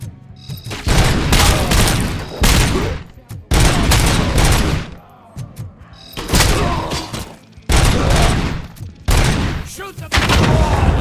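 Bursts of heavy gunfire from the RoboCop: Rogue City video game come in repeated loud volleys with short pauses between them, the shots close and booming.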